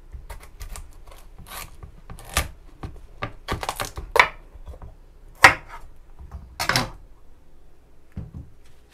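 A knife cuts through a pumpkin on a board for steamed pumpkin buns: a close, intermittent run of crunchy scrapes and sharp knocks, some louder bursts spaced between quieter rasping strokes.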